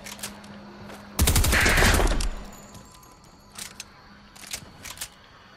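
A burst of rapid gunfire in Fortnite rattles for about a second, followed by scattered, fainter shots and clicks in a game-like soundscape.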